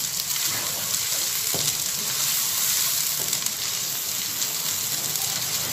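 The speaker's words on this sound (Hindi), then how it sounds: "अब हम इसे मज़ीद 7 से 8 मिनट भूनेंगे।" Radish and spinach with spices fry in a pan, giving a steady, close sizzle with faint stirring scrapes and no talking.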